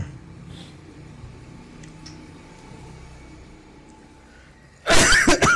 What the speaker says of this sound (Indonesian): Anda nggak tahu kenapa tiba-tiba batuk ini.